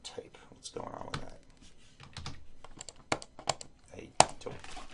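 Computer keyboard typing into a spreadsheet comes through as scattered, uneven key taps, some sharp clicks standing out, all quiet and close, mixed with low, soft speech.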